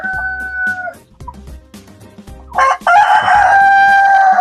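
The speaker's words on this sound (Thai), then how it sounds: "นี่เป็นไก่ไข่โรสไอแลนด์ตัวเยสอายุ 5 เดือนนะครับ" Five-month-old Rhode Island Red laying hens cluck and call loudly and close by, with a rooster-like crow and overlapping squawks building toward the end.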